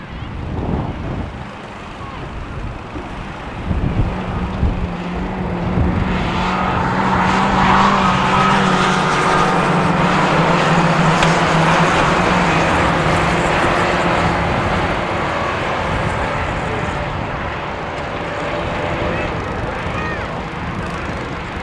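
Junior saloon cars racing in an autograss meeting at St Neots, a pack of engines droning and rising as they pass, with tyre scrabble and a commentator talking over the racing.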